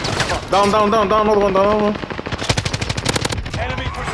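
Rapid automatic gunfire from a video game rattles in loud bursts, with players talking over it and a synthetic voice line sounding early on.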